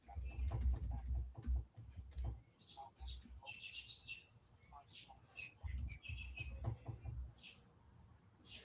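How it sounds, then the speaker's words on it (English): Several birds chirp and tweet in short bursts with high calls scattered throughout, close and fairly clear, over low rumbling background noise, with a faint voice in places. "Bro, do y'all hear these birds?"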